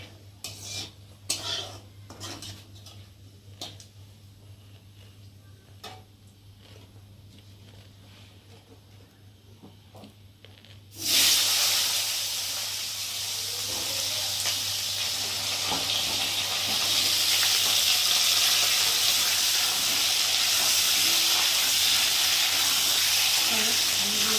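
Potatoes drop into hot tempering spices in a pan for a rohu fish curry, bursting into a loud, steady sizzle after some light utensil clinks, close up and continuing to the end.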